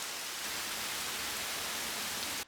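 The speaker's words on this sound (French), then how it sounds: "L'averse est arrivée brutalement." A sudden cartoon downpour of rain makes a dense, steady hiss that stays loud and constant, then cuts off abruptly at the end.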